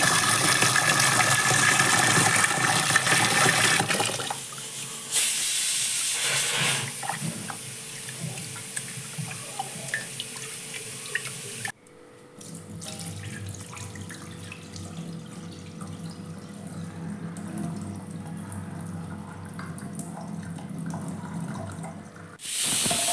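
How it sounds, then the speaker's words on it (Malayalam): Golden basmati rice being washed for mandi, with running tap water pouring and splashing into a vessel, then quieter swishing and trickling before a final gush, and no talking. "അപ്പോൾ നന്നായിട്ടൊന്ന് കഴുകിയെടുക്കണം"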